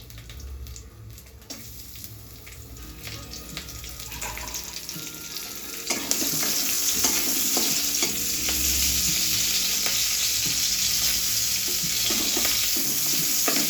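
Green chilies sizzle and fry in a pan for a papaya and chickpea curry, a steady loud hiss that swells sharply partway through, with stirring scrapes and no voices.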